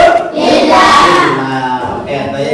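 Pupils in a classroom at the end of a morning lesson give a short burst of applause and shouts, loud and close throughout.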